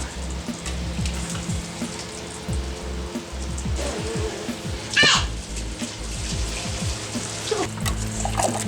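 Wort from all-grain brewing is poured gently back over the grain bed, a soft continuous trickle and splash under faint background sounds, with one brief louder splash midway.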